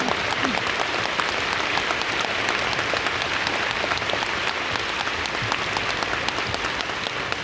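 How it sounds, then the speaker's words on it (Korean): Concert hall audience applauding the orchestra at a Phantom Singer 3 gala concert in Seoul, a loud, continuous wash of clapping from a large crowd that holds steady throughout. "우리 패턴 매직 오케스트라 분들에게 정말 아낌없고 뜨거운 박수 부탁드립니다"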